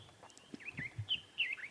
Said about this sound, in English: You can hear an oriole calling.